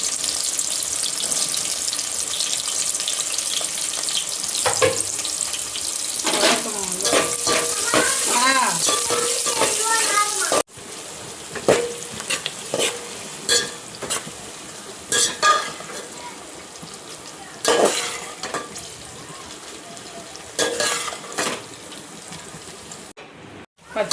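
Onions fry and sizzle in a pan for chicken gravy, a loud steady hiss at first, then quieter with scattered scraping and clinking of a spoon stirring against the pan.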